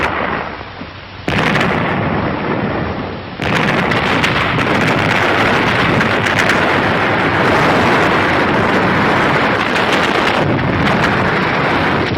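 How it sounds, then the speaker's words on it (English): Wartime newsreel artillery and mortar fire pounds fortified ridges and cave positions held by Japanese forces: loud, dense, continuous rumbling blasts with sharp cuts between shots. "Enemy mortars and artillery were still zeroed in on the path of our advance."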